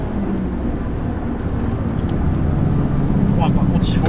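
BMW 320iS engine pulling hard in third gear from the cabin, a steady loud drone under a voice talking over it.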